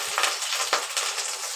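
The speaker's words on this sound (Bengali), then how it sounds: "এবার ফুলকপিগুলোকে আমি লাল লাল করে ভেজে নেব।" Cauliflower pieces fry in hot oil in a kadai, giving a close, steady crackling sizzle with a few soft stirring knocks.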